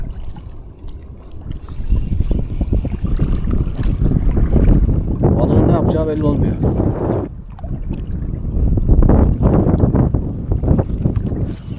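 Strong gusty wind buffets the microphone outdoors at a dam while trout fishing, with rushing noise and some water, while people talk loudly over it.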